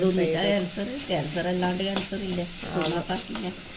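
Sambar spinach leaves stir-fried in a pan give a steady sizzle with stirring scrapes, heard under continuous nearby talk.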